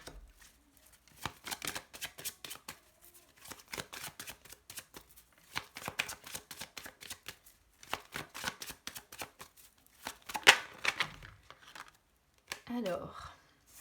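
Tarot cards being shuffled close up in repeated riffling bursts with brief pauses between, fairly quiet, and a voice speaks over them in places.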